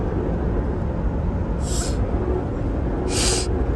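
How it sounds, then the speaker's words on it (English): Two short, sharp sniffs from someone with allergies, heard over the steady low rumble of an SRT Jeep being driven in track mode. "ignore me if y'all hear me sniffing a lot"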